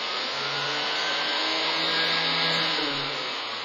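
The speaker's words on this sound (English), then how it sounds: "So here we are going to turn on this blower" Blower running in a forced convection lab experiment, giving a steady, loud whooshing roar of rushing air with a faint motor hum underneath, constant throughout.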